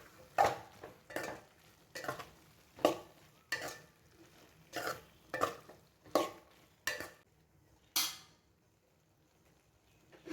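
A spoon stirs eggplant into masala in a pan in about a dozen regular scraping strokes, each with a short sizzle, close and distinct, before a quiet pause near the end.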